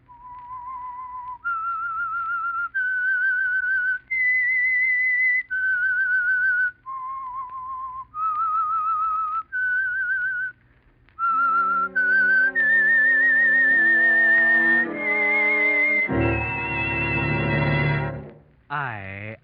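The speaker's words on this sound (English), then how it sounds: "That whistle is your signal for the Signal Oil Program" A single performer whistles the eerie theme tune of The Whistler radio program, clear sustained notes rising and falling in a slow melody, then an orchestra swells in underneath and builds to a loud finish.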